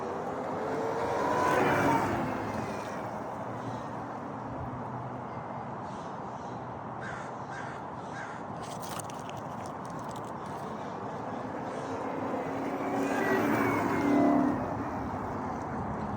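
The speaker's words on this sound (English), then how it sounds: "let's try to see what it's like when he's doing a ride by. See how loud it is." A Yozma IN10 motorbike fitted with a belt kit rides past, its engine swelling as it approaches, fading through the middle, then rising again for a second pass, heard from the roadside with no talk.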